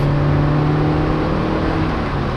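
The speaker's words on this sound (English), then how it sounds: "The engine is very lively, loves to rev" A Toyota MR2 Mk1 car engine hums loudly and steadily at high revs, a constant mechanical whir with no voices.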